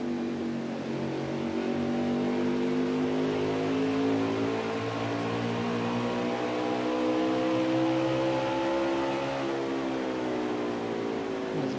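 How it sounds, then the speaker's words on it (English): NASCAR truck series engines in a racing video game drone steadily for several seconds, a pack of revving motors with overlapping pitches slowly shifting, constant and moderately loud with no talking. "Let's go to Nascar, crank it up for a little bit. Just listen to the engines."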